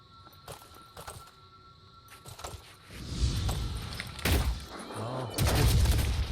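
Gunfire in the turn-based tactics game Phoenix Point, including a pistol: several sharp shot-like bursts and impacts over a low rumbling battle ambience, growing louder toward the end.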